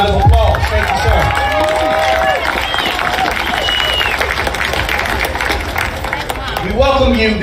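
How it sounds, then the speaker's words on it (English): Crowd applause and cheering at an outdoor gathering of an armed Black militia group in Lafayette, Louisiana, loud and mixed with shouting and voices over steady clapping. "Let's give Grandmaster J another big round of applause."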